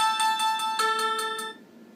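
Electronic melody from an Alcatel 2000 mobile phone, steady tonal beeps pulsing in a regular rhythm with a held note partway, then cutting off abruptly as the tune ends.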